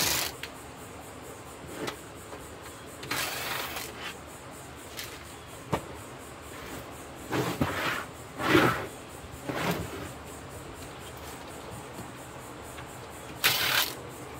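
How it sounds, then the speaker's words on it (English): Screws are worked out of an Avaya G350 media gateway during a teardown. Sparse, faint clicks, scrapes and light metallic rattles fall irregularly over a quiet room hiss. "let me commence the removing screws"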